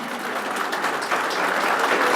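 Dense, steady crowd applause fills the air at an oath-taking gathering of the Awan organization in Pakistan, a continuous wash of many hands clapping close by with no break.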